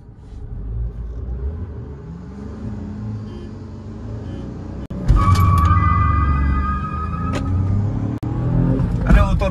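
A Tata Punch and a Hyundai Verna 1.6 accelerating in a drag race, a rumbling engine with a rising rev that surges loudly halfway through and holds a strong roar, with horn beeps and people talking throughout.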